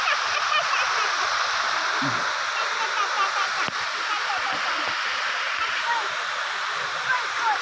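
Steady, loud rush of water at Tusharagiri waterfall fills the clip, a dense broadband roar with constant splashing and no pauses.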